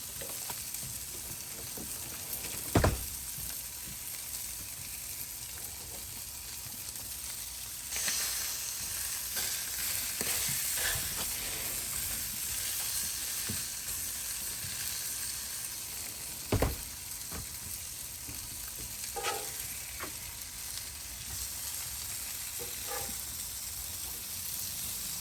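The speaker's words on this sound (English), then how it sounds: "We're gonna melt some cheese on the bread." Cheese melting on bread on a Blackstone griddle while a Reuben is built, giving a steady, moderate sizzle that runs throughout with a few sharp clunks of utensils against the flat top.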